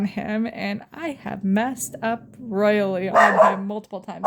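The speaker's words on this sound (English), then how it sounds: "Sorry, that's my dog." A pet dog gives a short bark indoors, partly masked by someone talking steadily over it.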